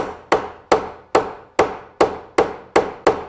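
A glued wooden dowel is hammered into a loveseat joint with nine steady, evenly spaced woody knocks, each strike loud and close with a short ringing decay, and no voices.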